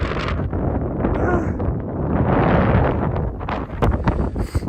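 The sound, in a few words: strong wind on a night hike in the Jura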